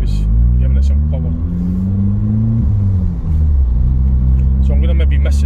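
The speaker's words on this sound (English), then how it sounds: "don't know if you heard that car" A car accelerating hard along Longshore Terrace in Scotland, heard from inside another car: a loud engine rumble with rising and falling revving tones over steady road noise.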